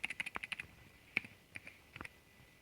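Someone types on a computer keyboard, producing a quick burst of crisp, close key clicks followed by a few sparser, separate keystrokes in a quiet room.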